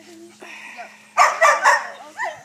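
Seven-week-old standard poodle puppies let out a quick run of close, sharp barks and high yips after a quieter stretch, with a person talking nearby.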